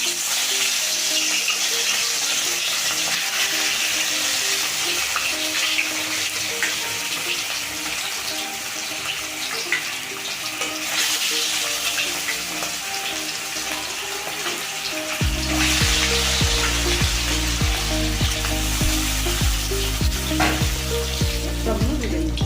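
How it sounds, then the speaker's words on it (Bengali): Fish fries in oil in a pan for a fish curry with water lily stems, a loud continuous sizzle and crackle throughout, with music joining over the frying in the latter part. "এবার তেল দিয়ে দেবো। এবার মাছটা ভেজে নেব।"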